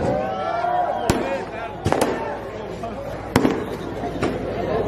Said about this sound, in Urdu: یہ جو پٹاخے بازی ہو رہی ہے